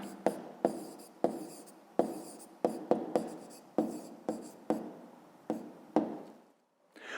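Pen or chalk writing down an answer to a fifth-grade maths problem, a string of about a dozen sharp taps and scratchy strokes in an uneven rhythm, close and distinct, with no speech.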